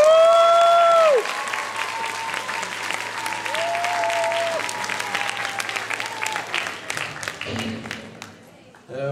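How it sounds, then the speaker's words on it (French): A crowd applauds with sustained clapping for several seconds, while a voice with a whistle-like tone sounds briefly over the start. "je voudrais que vous l'applaudissiez pour ses"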